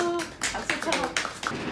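A small group claps at a Christian first-birthday service for a baby, a few close, uneven bursts of hand claps, with talk heard at the start.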